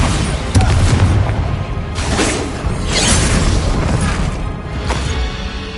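A Bombarda spell in the video game Hogwarts Legacy sets off loud, booming blasts and crashing bursts with whooshes, a dense, continuous rumble of combat effects.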